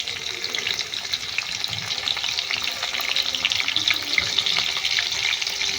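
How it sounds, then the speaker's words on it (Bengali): Onion and green chillies hit hot oil in a pan for egg chow mein, producing a dense, bright, continuous sizzle that crackles evenly and close throughout without any speech. "আমার তেল গরম হয়ে গিয়েছে এর মধ্যে দিয়ে দেবো পেঁয়াজ আর দিয়ে দেবো কাঁচা লঙ্কা"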